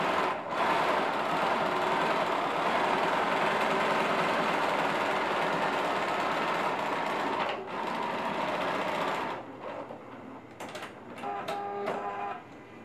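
A sewing machine runs in a long steady whir while stitching a tablet sleeve, backstitching at stress points, then stops briefly and resumes in short bursts.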